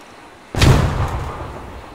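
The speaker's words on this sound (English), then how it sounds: "Frag in the air." A frag grenade detonates in a Halo video game as one sudden loud boom that rolls off into a decaying rumble and fades over about a second and a half.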